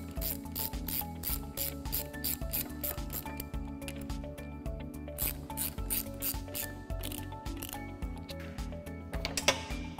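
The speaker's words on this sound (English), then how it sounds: "We'll snug them down with our ratchet." A ratchet snugging down bearing cap bolts during a bearing installation, steady fast clicking strokes in repeated runs at close range with brief pauses between, continuing for the whole stretch.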